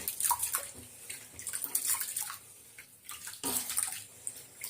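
Water splashes and swishes as rice is washed by hand in a bowl for the fifth rinse, with irregular sloshing bursts and drips, close and fairly quiet, without speech.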